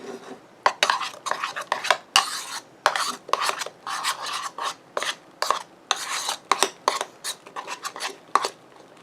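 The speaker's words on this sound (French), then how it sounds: "On remue." A slime mixture with shaving foam being stirred in a bowl, a rhythmic series of wet scraping, rasping strokes, close and fairly loud, repeating about twice a second with brief pauses and no talk.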